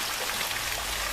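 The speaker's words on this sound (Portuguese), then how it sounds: "nesse momento tá chovendo" Steady rain falling in Trindade, a continuous, even close hiss that holds without pause and with no voices over it.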